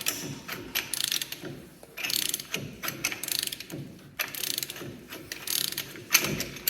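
Repeated mechanical clicking and grinding as a press works a ball joint out of a Jeep Wrangler, ratchet-like bursts coming in uneven waves, close up.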